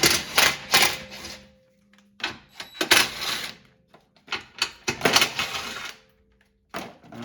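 A clip and 10mm bolts come off the rear skid plate cover of a 2021-2024 Toyota Sienna Hybrid, heard as bursts of rapid clicking and ratcheting separated by short quiet pauses, close by.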